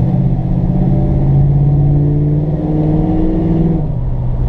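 A 1972 Ford Ranchero GT's V8 pulls hard under acceleration, a loud close rumble whose pitch climbs steadily before dropping off near the end.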